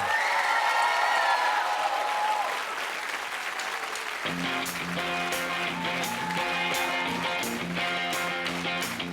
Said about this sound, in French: Un tonnerre d'applaudissements pour les 6 familles finalistes et nos parrains!